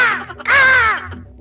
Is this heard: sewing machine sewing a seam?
no